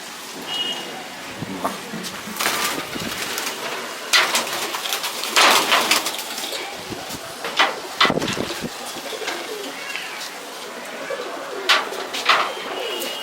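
Pet pigeons, small Andra-type hens bred from Kulsira and Lalsira lines, coo repeatedly in a loft, with soft overlapping calls, scattered wing flutters and background rustle, and the odd voice faintly underneath.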